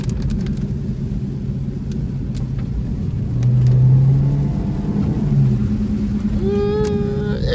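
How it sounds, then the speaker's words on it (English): A car driving on a wet road in the rain with a steady low rumble and tyre hiss, the engine note swelling as it accelerates briefly, with a faint whine rising near the end. "A little bit of acceleration in the rain."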